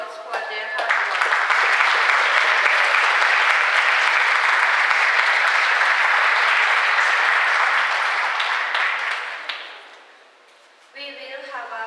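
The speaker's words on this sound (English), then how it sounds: "Let's give them another round of applause for their hard work." Applause from a school audience for student groups who presented their work at a Punahou School event, a loud, sustained crowd of clapping that fades out near the end before a voice resumes speaking.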